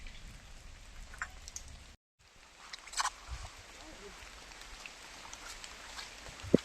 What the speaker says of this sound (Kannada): ಮಳೆ ಬರ್ತಿದೆ ಗೈಸ್